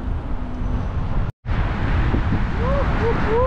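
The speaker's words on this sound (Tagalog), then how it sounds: "Sarap ng hangin." Loud wind buffets the microphone in a constant roar during a bicycle ride through Tubli and Salmabad, Bahrain, broken by a brief dropout, with faint voices rising through the gusts toward the end.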